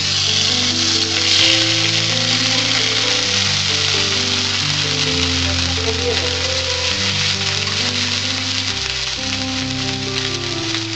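Nutmeg and mace sizzle in hot oil inside a pressure cooker, giving a dense, steady crackling hiss that carries on without a break, with faint background tones underneath.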